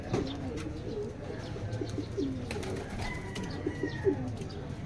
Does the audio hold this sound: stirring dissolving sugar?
no